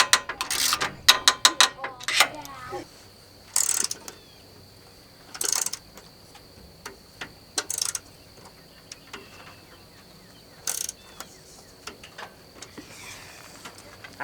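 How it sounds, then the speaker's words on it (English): A ratcheting wrench tightens bolts on solar panel mounting rails outdoors, making sharp, close bursts of rapid clicking separated by short pauses. "We have 3 more bolts that we need to tighten down"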